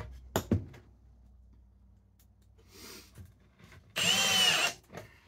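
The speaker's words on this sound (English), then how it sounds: "I'm screwing it because I think screws are stronger." A power drill drives a screw into wood for a simple homemade Christmas gift. A few clicks and quiet handling come first, then one short, loud whirring burst lasting under a second, with no talk.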